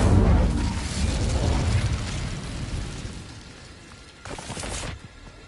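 Blasts from the Incendio fire spell in the Hogwarts Legacy video game: a loud, rumbling, fiery whoosh sustained for several seconds, easing off, then a second sharp burst near the end.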